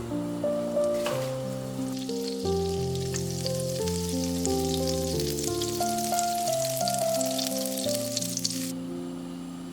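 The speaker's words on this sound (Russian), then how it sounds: "Будем обжаривать ее на оливковом и сливочном масле" Steady sizzling and crackling of pumpkin slices frying in olive oil and butter runs throughout, while soft instrumental music plays underneath.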